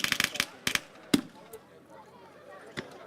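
Sharp percussive bangs from a cannon and guns at a war reenactment, several quick loud reports at the start, then isolated blasts further apart over a noisy outdoor background.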